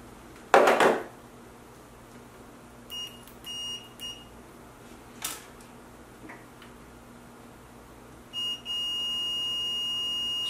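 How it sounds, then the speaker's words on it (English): A multimeter's audible continuity test on a fuse from a Sony DAV-HDX285 home theater system gives a sharp first beep, several short chirps, and then a sustained steady tone at the end in a quiet room. "we're just going to use the audible continuity test here"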